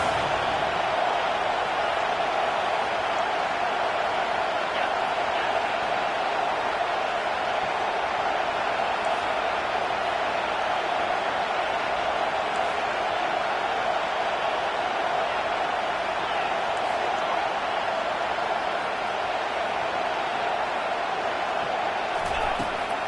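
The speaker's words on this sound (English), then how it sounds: "how nice is it to have the home crowd going absolutely bananas?" Home football crowd roaring loudly at a stadium, a dense, continuous wall of cheering and noise that stays steady throughout with no clear breaks.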